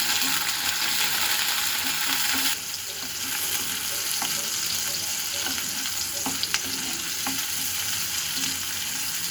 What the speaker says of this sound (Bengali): আমি পেঁয়াজের সাথে চিংড়িটাকেও একটু ভেজে নিচ্ছি।